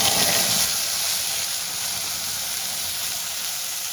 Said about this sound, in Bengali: ফোড়নটা আমার একটু ভাজা হয়ে গেছে আমি পেঁয়াজ পেস্টটা দিই